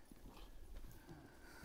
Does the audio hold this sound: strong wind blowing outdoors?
no